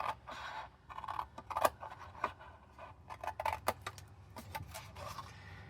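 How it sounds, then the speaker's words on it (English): Scissors snip through a piece of cardstock during a paper-crafting project, giving a run of sharp, close cuts spaced irregularly across the clip with soft paper rustling between them. "I'm just going to cut this piece right off here."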